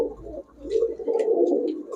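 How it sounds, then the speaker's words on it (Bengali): A pair of red Pakistani high-flyer Giribaz pigeons at a shop gives close, steady, throaty cooing in two rolling bursts, with no talking. "মার্শাল্লাহ কবুতরগুলো সুন্দরই আছে"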